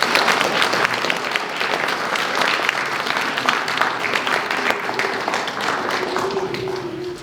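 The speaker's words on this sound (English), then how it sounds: "Please join me in thanking all of these wonderful people with a round of applause" An audience at a university history department recognition ceremony gives a full, continuous round of applause, loud and even from start to finish, with no one speaking.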